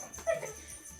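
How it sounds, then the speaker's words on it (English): Dogs at home give a short yip and whimper around a knock at the door as a van pulls up, a brief muffled burst over quiet room noise with no talking. "Shut up, dogs."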